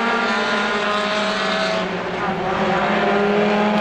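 Roadrunner-class race cars roar around Star Speedway during a heat race, several engines blending into a loud, continuous drone with shifting pitch as the pack circles, with no pause throughout.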